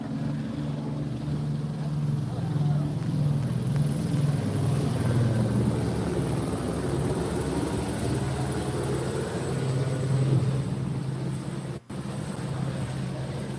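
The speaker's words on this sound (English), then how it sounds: "And then the chopper shows up." A helicopter flies overhead, a loud, continuous rotor drone with a steady low throb that holds for the whole stretch, close and dominant with no talk over it.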